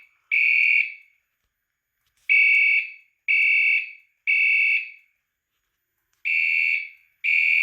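A mini fire alarm system sounds during a zone 2 alarm test, its horn blaring in repeated loud, steady bursts of roughly half a second with brief gaps, clear and close with no talking.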